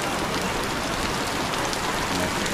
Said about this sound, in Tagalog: Sumilong muna kami kasi lumakas ang ulan.